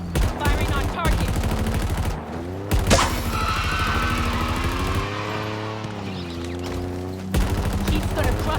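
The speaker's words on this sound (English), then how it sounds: "Firing on target." Sustained gunfire in Halo Infinite plays as dense, rapid automatic bursts that run almost without pause, loud and close. A sharp impact sounds near the three-second mark, and game music and effects continue underneath.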